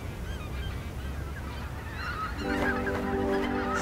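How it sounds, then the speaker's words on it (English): Geese honk on the marshy plains of the lower Rhine, a flock calling repeatedly over steady outdoor background noise, the honks growing louder and more layered toward the end. "the geese can rest on its great marshy plains"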